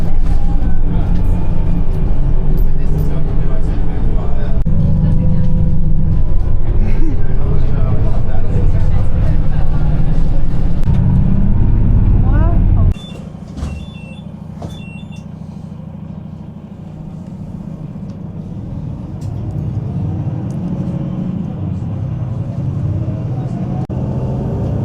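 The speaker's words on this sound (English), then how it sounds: "We made it onto the bus." Bus grinding along steep winding roads in Madeira, a loud continuous engine rumble with road noise and passenger chatter, easing to a quieter hum partway through.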